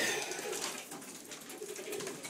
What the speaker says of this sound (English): My young birds again.